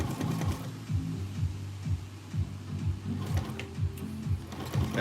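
Sewing machine back stitching a grill cover, a steady run of mechanical needle clatter with a regular rhythm, close and moderately loud, no talk.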